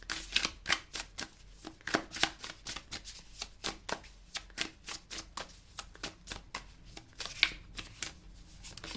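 Tarot cards being shuffled and drawn make a steady series of crisp riffling slaps and flicks, close and moderately loud, running without a break. No voice is heard.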